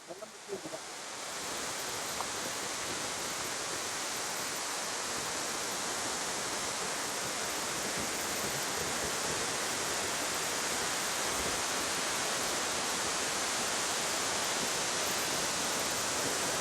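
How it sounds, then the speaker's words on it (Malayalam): A waterfall in Kanthalloor, Idukki, reached at the end of a forest trek, roars as a steady, dense rush of falling water, loud and unbroken throughout. "നമ്മൾ ഫൈനലി വാട്ടർഫാൾസിലോട്ട് എത്തിയിട്ടുണ്ട്"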